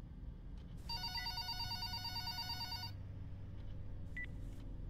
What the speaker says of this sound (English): I can't answer the phone.